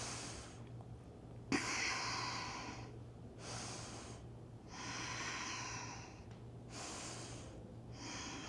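Slow, deep breathing during a hatha yoga pose, with long airy inhales and exhales alternating in a steady rhythm about every one to two seconds, close and soft, beginning with a sharp sniff.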